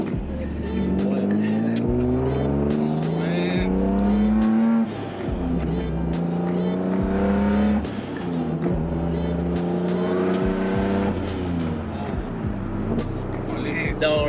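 A turbocharged Acura RSX engine revs up through several gears, each rising whine dropping at a shift. Loud and close, with continuous road roar underneath.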